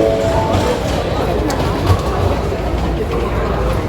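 A train in Tokyo, heard on a platform as a steady low rumble and rolling clatter that fills the whole stretch, fairly loud and close.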